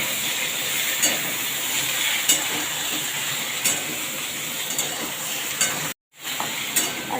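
Chalta (elephant apple) fries in a pan, a steady loud sizzle broken by periodic scraping stirs and one brief dropout near the end.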